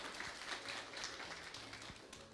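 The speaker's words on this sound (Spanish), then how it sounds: "Fuertes los aplausos" An audience at a municipal lecture on the Huamachuco civilization claps, a faint, dense patter of many hands that stays steady for a couple of seconds.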